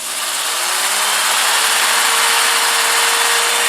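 A power sander working a wooden bowl with 80-grit sandpaper under light pressure, a steady loud whirring hum with a faint rising tonal whine, continuous and close with no talking.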